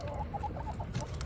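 Chickens cluck inside a backyard coop, a close run of short, repeated clucks in an uneven rhythm with no talking.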